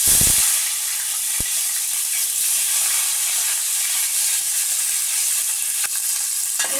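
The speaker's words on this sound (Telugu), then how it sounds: "నూనె వేడైంది ఆ పచ్చకూరలకు ఉల్లిగడ్డ పచ్చిమిరపకాయలు కోసినాయి వేస్తాను" Onions and green chillies frying in hot oil for a Telugu green vegetable curry, a steady loud sizzle and hiss with a short stir clatter at the start, no talk.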